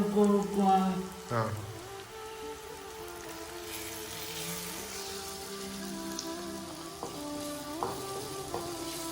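Curry leaves sizzle and crackle as they fry in a pan, with occasional scraping stirs. The sizzling is steady and fairly close, and background speech and tones are mixed in.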